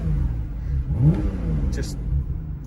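Engine of a 2019 Porsche 991 Targa 4 GTS blipping once in a short rising-and-falling rev over a low idle rumble, with someone talking over it.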